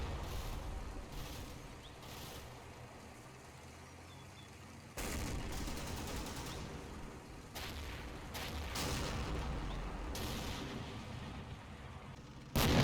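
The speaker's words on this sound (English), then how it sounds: "I continue to area fire because my spotting is rubbish." Booming artillery area fire in Combat Mission Red Thunder, several heavy thuds and rumbling blasts rising abruptly over a low background, fairly distant and muffled.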